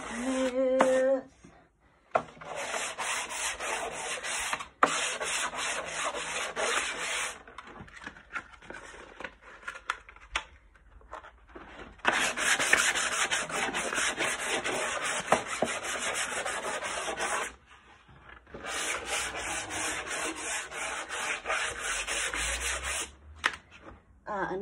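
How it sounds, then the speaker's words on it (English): An extra fine sanding sponge rubbed back and forth over the edges of an old mirror frame, close raspy scrubbing in long steady bursts separated by short pauses, with light handling knocks. "I've got an extra fine sanding sponge, and I'm just going to go back and forth a couple of times over those edges"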